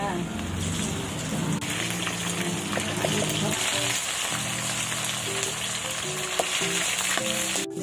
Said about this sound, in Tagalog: So, iprito natin siya.